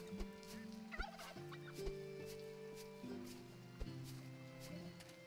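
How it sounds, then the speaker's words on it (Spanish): A turkey in the video game Travellers Rest gobbles repeatedly in quick bursts over steady, faint game background music with occasional soft clicks and no talk. "¡Uy, mira, un pavo!"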